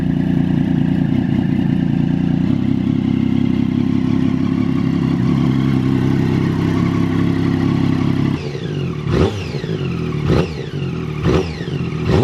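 A superbike's engine idles steadily and loudly at close range, then gets blipped in several sharp revs that rise and fall quickly.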